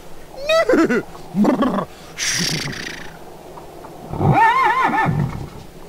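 A horse in the video game A Vampyre Story whinnies loudly several times in a row, with a breathy snort between the neighs and a steady low hum behind them.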